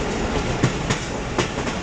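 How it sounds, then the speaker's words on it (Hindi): Fareed Express train rolling into Bihari railway station in the rain, loud and close, with a steady rumble and rhythmic clickety-clack of wheels over rail joints. "ट्रेन इस वक्त पहुंच रही है जी बिहाड़ी रेलवे स्टेशन।"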